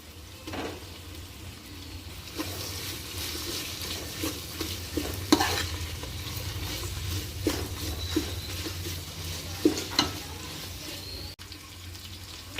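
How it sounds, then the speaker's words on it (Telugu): Ginger paste is fried and stirred in a pan of softened vegetables for a veg paneer biryani: soft sizzling with intermittent spoon scrapes and clinks, fairly quiet and alone. "ఇందులోకి అల్లం పేస్ట్ వేసుకుందాం మనం."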